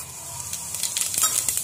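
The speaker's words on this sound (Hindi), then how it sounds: "जीरा धनिया डाल दिया हमने इसमें" Cumin and coriander seeds fry in a pan, giving a soft, steady crackle with scattered tiny pops that thicken slightly toward the end, close and fairly quiet with no talking.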